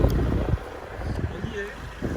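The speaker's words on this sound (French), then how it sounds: "Il y a du vent là, c'est ouf." Strong wind buffets the microphone in low rumbling gusts, loud and close, with a voice briefly heard underneath.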